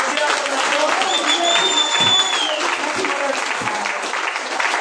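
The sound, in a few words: congregation applause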